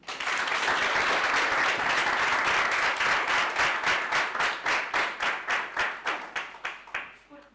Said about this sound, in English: let's give her the round of the applause